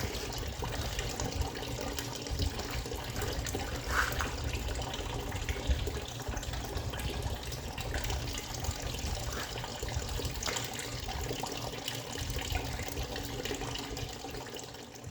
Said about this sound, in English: While we wait for the coolant to drain